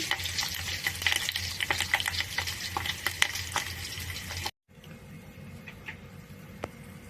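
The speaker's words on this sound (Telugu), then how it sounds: "తాలింపు వేగిపోయిందండి పచ్చిపులుసుకి" Dried red chillies crackle and sizzle in hot oil as a tempering for a tamarind-based raw pulusu, with busy popping for several seconds before a brief cut to quieter, softer sizzling.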